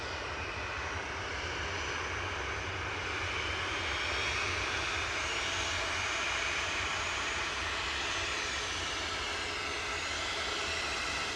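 A Jet2 Boeing 737-800 roars steadily on departure at Manchester Airport, a loud, close, continuous engine rush that fills the whole stretch with no talk over it.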